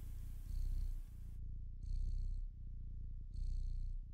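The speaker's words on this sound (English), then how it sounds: "Oh, that's the cat purring I hear in the game." A cat purrs in the video game Stray, a soft low rumbling purr that swells in three rhythmic bursts with higher airy tones on each, quiet and close with no talking.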